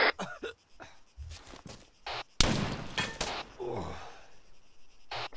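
Gunfire in ARMA 3 crackles in sharp, scattered shots, with one loud, close crack partway through followed by a burst of echoing fire, mixed with breathing and brief voice sounds.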